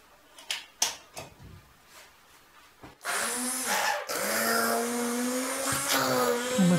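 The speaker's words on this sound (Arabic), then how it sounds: "سأقوم بتشغيل الخلاط الآن." A few knocks and clatters, then an electric blender starts up loudly and runs with a steady whirring roar, its pitch shifting slightly, blending decomposing bathroom tissue.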